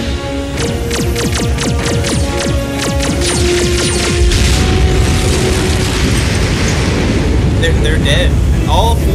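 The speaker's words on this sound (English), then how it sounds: "He just exploded again." Explosions and crashing effects from an animated Transformers: Prime episode, loud and dense, with booming impacts, mechanical clanks and a roaring rumble that builds and stays heavy throughout, with no talking.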